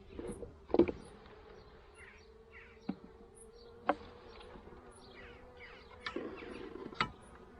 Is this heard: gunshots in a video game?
no